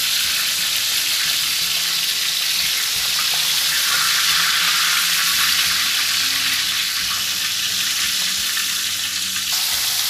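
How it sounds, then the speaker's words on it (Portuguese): Thin pork sausage fries in a pan with a loud, dense, continuous sizzle and small pops of spitting fat. The sound is close and steady, and no voices are heard. "Aqui tá dando uns estourinhos de gordura aqui"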